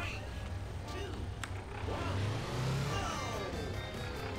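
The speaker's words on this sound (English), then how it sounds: "This bus has a lot of noise." A bus in the mobile driving game Hill Climb Racing 2 runs with a steady engine drone that swells louder and revs up midway. A sharp click cuts in briefly before the revving.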